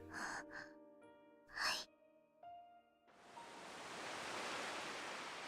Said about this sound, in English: Sarah's reply is nearly inaudible, almost drowned out by the sound of the waves.